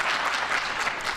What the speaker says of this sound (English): That's right, give them a round of applause